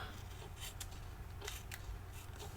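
Scissors trim paper for a handmade greeting card in a craft class, a few quiet crisp snips spaced over a faint background hum.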